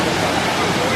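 Kuang Si Falls near Luang Prabang, Laos, pours as a loud, steady broadband roar of falling water, close and continuous, with a voice faintly mixed into the rush.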